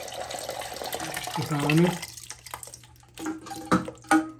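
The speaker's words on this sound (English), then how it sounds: "When I do, you should have more water coming out." Water gushing from a Kohler toilet once the flow valve is pulled out, a close splashing pour that swells then trails into scattered drips, with someone briefly talking over it.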